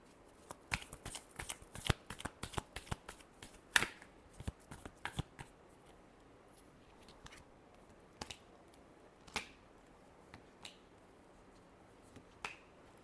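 Tarot cards shuffled by hand, a dense run of crisp riffling snaps and slaps for the first five seconds, then sparse single card flicks and taps in a quiet room.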